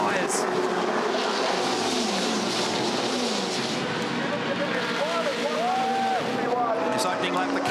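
Supercar race cars on the Bathurst 1000 opening lap pass with engine tones sweeping up and down while tyres work at the track, heard beneath commentary and crowd noise.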